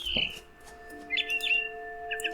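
A bird in the video game What Remains of Edith Finch gives a few short, bright chirps in quick bursts over steady sustained tones, fairly close and clear.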